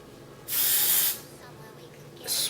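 A spray bottle mists wig lace in two short hissing spritzes, the first longer and the second brief, close and clear against a quiet room.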